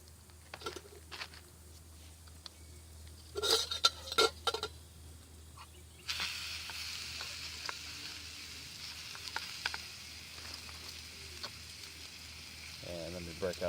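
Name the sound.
bacon frying in a pan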